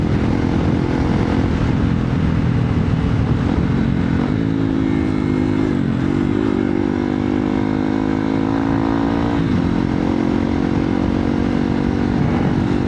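A Hero Xpulse 200 Pro motorcycle ridden in the early morning, its engine droning steadily and loudly throughout with slight pitch shifts as the rider eases and reopens the throttle, plus wind rush.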